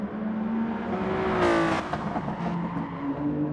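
Race cars at Tsukuba Circuit in Gran Turismo Sport, engines droning steadily with a rising rev as one machine accelerates past, tones sweeping up then falling away, continuous and fairly loud throughout.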